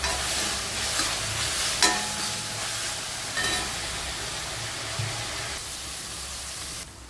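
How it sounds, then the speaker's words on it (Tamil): Vegetables and broccoli sauté in a pan for egg fried noodles, a steady broadband sizzle with occasional scrapes and stirring knocks of the utensil, close and continuous with no talk. "காய் இப்போ நல்லா வதங்கிருச்சு"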